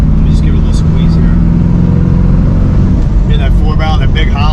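1970 Boss 302 Mustang V8 with a big Holley four-barrel carburetor running loud and close, a steady deep engine drone while someone talks over it.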